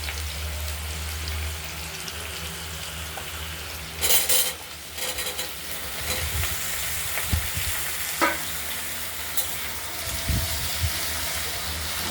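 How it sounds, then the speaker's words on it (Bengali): Potatoes fry and get stirred in hot oil with cumin and a dried chilli for a potato, ridge gourd, onion and poppy seed curry, a steady close sizzle broken by spatula scrapes and a few clinks, with no talking. "আলুগুলোকে একটু তেলেতে নাড়াচাড়া দিয়ে পরিমাণ মতো নুন দেবো"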